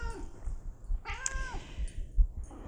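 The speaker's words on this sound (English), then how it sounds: "If you had a cat join you, you have a helper, right?" A cat meows during a yoga session, one clear, rising and falling meow over quiet room noise and soft thumps.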